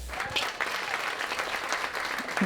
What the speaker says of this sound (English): Give all of my volunteers another round of applause, please.